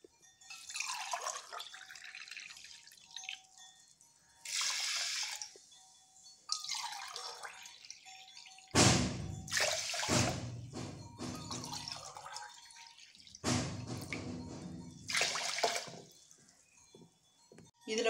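Water pours into a pot for saffron pongal in several separate splashing bursts, close by, with short quiet gaps between pours.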